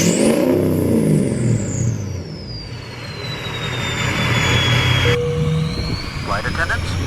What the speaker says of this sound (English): we're gonna let this truck warm up for a little bit. High idle, do its thing